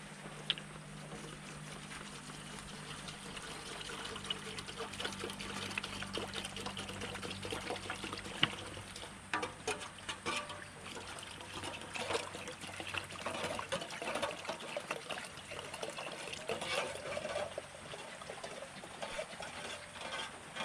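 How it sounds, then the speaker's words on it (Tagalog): Crude oil poured from a container into water in a rural Philippine setting, a steady trickling and splashing liquid sound running throughout, moderately loud with no talking. "Lalagay ko na itong krudo."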